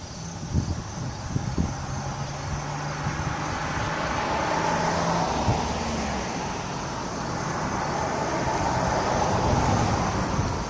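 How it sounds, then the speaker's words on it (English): Cars pass along a road in a broad, continuous traffic rumble and tire hiss that swells gradually toward the end, with some low engine tones early on and no speech. "We'll have some more cars coming in a minute"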